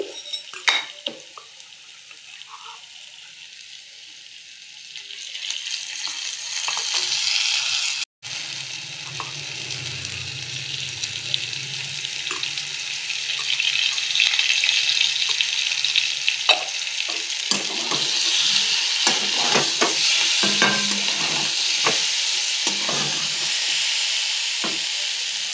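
Food sizzles steadily in a little oil in a pan while being stirred for a Bengali bhuna-style dish, with the frying growing busier and louder, spoon scrapes and clinks scattered throughout, and no talking.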